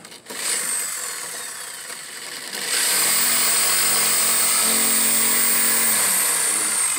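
A jigsaw cuts through wood nearby, its motor whining loudly and steadily after a brief quieter start, then holding a strong sustained buzz through the cut.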